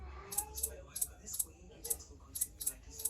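A looped shaker pattern from BandLab, crisp rhythmic hissing strikes repeating at a steady tempo, close and fairly quiet with a faint background murmur.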